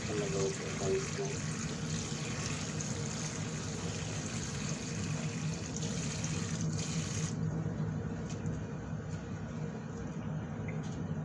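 Tap water runs steadily into a kitchen sink to soak eggplant for a home-cooked lunch, a continuous near hiss that drops away near the end, with faint background voices.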